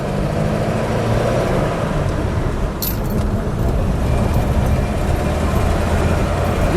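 A 1936 Chrysler Airflow Eight two-door coupe cruising along, its steady engine drone and road rumble continuous and close from inside the cabin.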